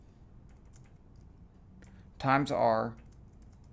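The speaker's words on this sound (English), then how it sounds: "Then I'm typing my equation." Soft, scattered clicks of computer keyboard typing as an equation is entered, quiet and close, with someone briefly speaking over the end.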